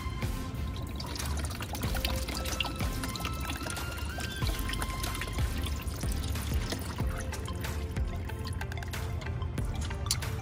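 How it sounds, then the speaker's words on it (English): Engine oil pours from the drain of a Corvette C7 Z51 during an oil change: a steady, dense liquid stream with faint dripping and trickling, close and continuous for the whole stretch. "when you start draining it, it'll come out nice and easy, just like this"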